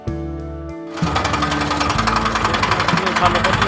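A tractor engine chugs loudly in fast, even pulses after about a second, with voices faintly mixed in.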